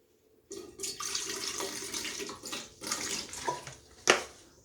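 About a quarter cup of distilled white vinegar is poured into a bathtub or basin, a continuous splashing stream lasting several seconds with a sharper splash near the end.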